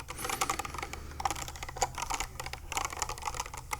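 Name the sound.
typing on a computer keyboard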